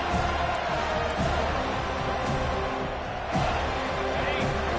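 Dense stadium crowd roar at a college football game, a steady loud wash of many voices with occasional swells, under commentary.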